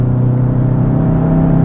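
Turbocharged four-cylinder engine of a 2022 VW Jetta GLI droning steadily under acceleration, a close, loud, continuous low hum with a slight rise in pitch over a couple of seconds.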